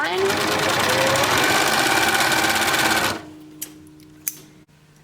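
Janome MyLock 644D overlocker stitching along a fabric edge, a dense rapid mechanical whir running steadily and close for about three seconds, then stopping, leaving a few faint clicks and light handling noises.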